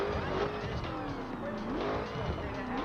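In the video game The Crew, a Corvette C7 engine hums steadily at moderate volume, its pitch rising and falling smoothly with throttle. No voices are heard.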